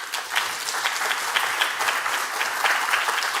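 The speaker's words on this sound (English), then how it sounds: "Thanks also for the applause" Audience applause after a climate talk, a brisk, even patter of many hands clapping for the whole stretch, fairly close and steady with no talking.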